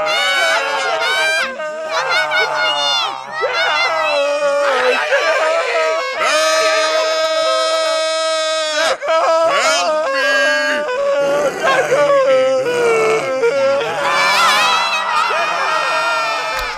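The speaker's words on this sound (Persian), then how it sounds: "صدای داد زدن میاد" Loud, overlapping shouting and screaming from several high-pitched voices in a comedy TV series scene, continuous and close, with almost no pause across the whole stretch.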